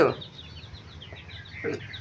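Young chickens raised from chicks clucking nearby at a home, a few soft, brief calls over quiet background, with a louder burst near the start and another toward the end.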